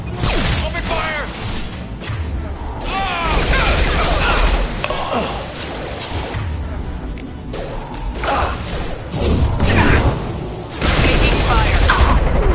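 Mass Effect 2 firefight with loud rapid gunfire, whooshing shots and crashing impacts in repeated bursts, while combat voices call out over the shooting.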